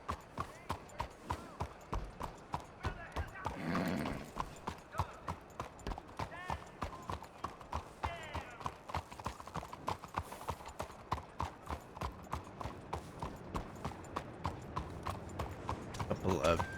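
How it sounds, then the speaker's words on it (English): A ridden horse clip-clops along at a steady walking rhythm, hoofbeats clear and close throughout, with people talking over it and a brief snort or whinny early on. "That's that horse we saw"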